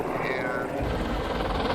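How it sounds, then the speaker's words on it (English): A helicopter flies overhead at Skinwalker Ranch, its rotor and engine making a constant loud, dense roar that fills the whole moment. "And Thomas, you saw it with the hand communications walkies between the ground and the helicopter."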